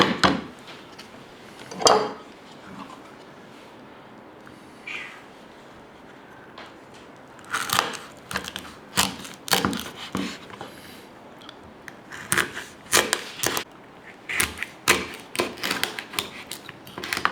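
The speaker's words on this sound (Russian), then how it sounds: "Режем наискосок, чтобы попадать между косточек." Dried herring being cut diagonally between the bones, a series of sharp close knife cracks and crunches on a board, sparse at first and then quick and clustered.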